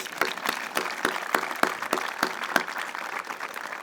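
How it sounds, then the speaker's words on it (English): An audience claps at a building ribbon-cutting ceremony on the William Paterson campus, a steady patter of separate, close claps with sharper strikes standing out at an even, moderate level. "give them a round of applause"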